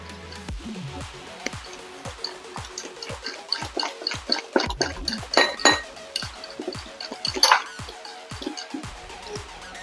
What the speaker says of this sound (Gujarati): બધું જ આપણે પ્રોપર મિક્સ કરી લઈશું.